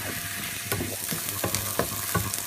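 Green chillies sizzle in hot oil with mustard seeds and urad dal in a South Indian pan, a steady crackling fry broken by several sharp stirring scrapes at irregular intervals, close and alone without any voices.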